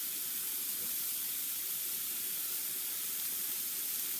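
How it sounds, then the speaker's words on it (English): Cumin seeds toast in a hot, dry pan for green chicken chili verde, heard as a continuous, even broadband hiss that stays level and close, with no speech over it. "I'm also going to add my cumin at this time so that it can toast up a bit with the heat of the pan"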